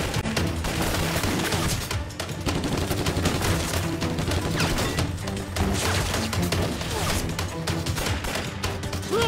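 Sustained heavy gunfire in a Chinese anti-Japanese war drama battle scene, dense overlapping rifle and machine-gun bursts with crashes and thuds, loud and continuous throughout with no clear speech.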